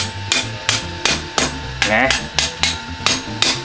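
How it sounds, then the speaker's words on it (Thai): A hammer pounds an old thick-walled steel box tube flat in steady, ringing metallic blows, about two or three a second, loud and close. A brief scraping sound comes between the strikes, and a voice is faintly heard. "ผมก็เลยทำการทุบให้มันบี้ลงไปครับ"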